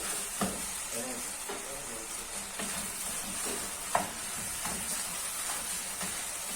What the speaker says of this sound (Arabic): نحط الرز بقى يتغلف بالسمنه كده خالص تمام